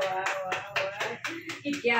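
Hands clap in a quick, uneven patter at a small family gathering at home where a prize is being handed out, with voices talking over them throughout.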